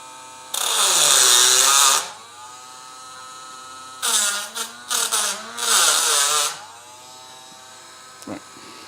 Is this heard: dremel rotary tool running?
yes